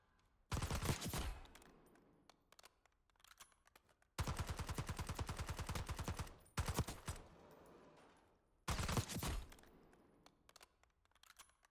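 Model L rifle with a CHF barrel firing in a video game: several loud full-auto bursts separated by quiet gaps, one short, one long rapid string of about two seconds, then another short burst.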